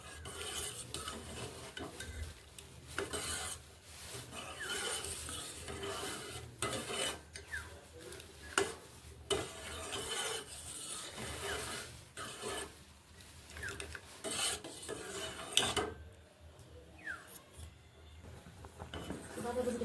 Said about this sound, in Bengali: প্রথমে একটু নেড়ে নিতে হবে, যাতে নিচে লেগে না যায়।